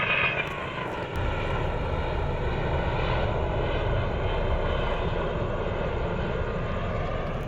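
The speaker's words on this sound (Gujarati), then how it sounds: "જો આ પ્લેન આવે કાવ નીચેથી ને પાસેથી ને જ જાય આગળ" A fixed-wing airplane passes low and close overhead near Ahmedabad, its engine roar loud and steady throughout, a broad continuous drone with no voices over it.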